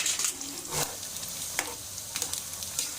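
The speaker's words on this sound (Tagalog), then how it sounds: "Nangluto ang akong mga ahos." Garlic frying in a pan, a quiet steady sizzle with a few brief scraping stirs and light clinks, close by and without voices.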